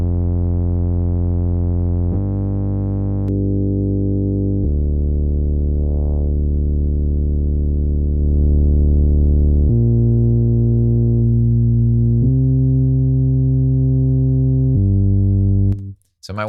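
A sustained synth tone with soft-clipping distortion, gritty and saturated, steps through a sequence of held notes, solo and steady, cutting off abruptly at the end.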